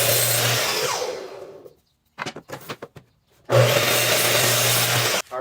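A power saw cuts the edges of a wood board in two loud, sustained bursts, separated by a short pause filled with a few knocks and handling sounds.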